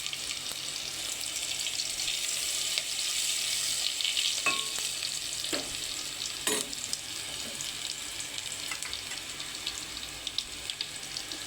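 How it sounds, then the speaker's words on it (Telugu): Garlic paste fries in hot oil with tempering seeds in a pan while pudina rice is being cooked, giving a steady close sizzle with a few scraping stirs and clinks. "వెల్లుల్లి పేస్ట్ వేసుకోవాలి."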